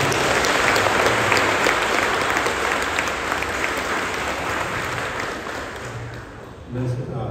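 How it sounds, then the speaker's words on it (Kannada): A church congregation at a feast Mass claps loudly and steadily for several seconds, a dense wash of applause that fades near the end as a voice begins speaking. "ಇನ್ನೊಂದು ಸರಿ ನೀವು ಜೋರಾಗಿ ಚಪ್ಪಾಳೆ ತಟ್ಟಿ"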